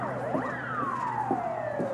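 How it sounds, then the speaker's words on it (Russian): A fire engine siren wails on a street in Yakutsk, its pitch sweeping up and then sliding slowly down as the vehicle passes at moderate distance, over low traffic rumble. "Пожарка идет."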